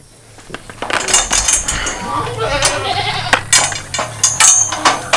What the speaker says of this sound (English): the goats too, because you can already hear them over there getting antsy